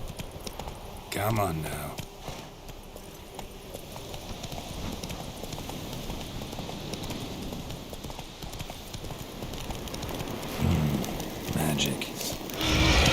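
The horse Roach gallops in The Witcher 3, hooves drumming in a steady clip-clop rhythm close by, with someone speaking briefly to the horse over the hoofbeats.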